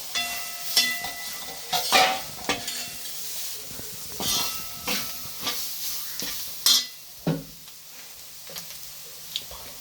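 Grated coconut with plantain and prawns being stirred in a hot pan, repeated scraping spoon strokes over a steady sizzle and hiss, close and fairly loud, with no voices.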